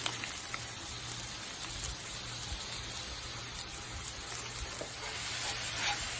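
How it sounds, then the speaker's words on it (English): Two pounds of sausage browning in a pan for tailgate snacks, giving a steady, continuous sizzle and crackle throughout with no voices. "cook down your sausage. Cook this down, brown it up"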